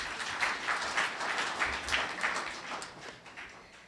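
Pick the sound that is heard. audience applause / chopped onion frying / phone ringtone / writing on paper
audience applause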